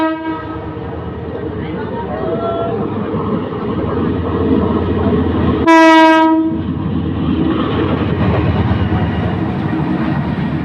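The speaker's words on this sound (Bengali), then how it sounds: "এই যে 11 সুন্দর এক্সপ্রেস ট্রেনটি দ্রুত গতিতে আসছে" An express train races through Tongi junction station at speed, a loud close rumble of wheels and carriages with a long blaring horn blast midway through the passing.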